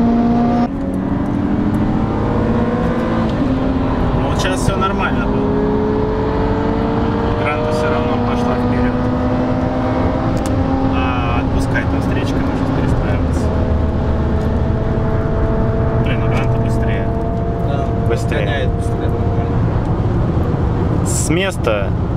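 Several cars, among them a Lada Granta Sport, accelerate hard side by side in a rolling race, the engines droning loud and steady with rising revs over about twenty seconds while people talk inside the car.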